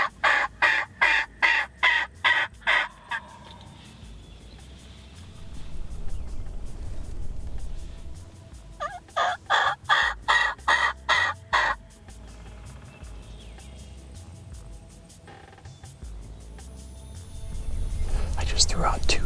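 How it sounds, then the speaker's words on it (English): Hen yelp calls ring out in a quick run of sharp notes, then a second burst of yelps follows, during wild turkey hunting; faint whispered talk runs between the calls, and a distant gobble may answer. "I just threw out 2 yelps. He gobbled back to the first one."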